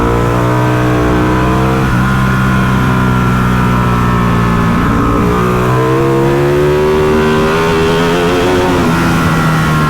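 A motorbike at a track day pulls hard under acceleration, its engine note loud and close, rising and shifting in pitch steadily across the whole stretch with no talk.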